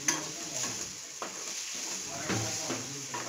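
Garam masala, coriander powder and turmeric fry in oil for a radish and egg dish, a soft continuous sizzle with intermittent scraping and clinks of a spoon stirring against the pan.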